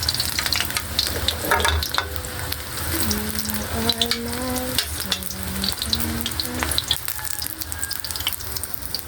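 Eggplant frying in a pan for ginataang sardinas with pechay, a steady bright sizzle with occasional stirring, heard close while a light melodic tune plays in the background.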